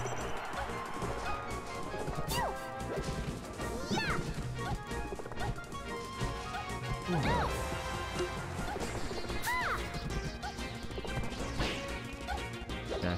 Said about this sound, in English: Smash attack